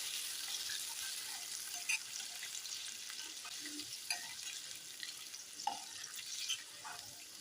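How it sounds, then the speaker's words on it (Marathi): Tomato paste sautéing in oil on a medium gas flame, a faint, steady sizzle with occasional soft stirring taps, quiet and without talking. "इथे मी टमाटरची पेस्ट तेलामध्ये छान परतून"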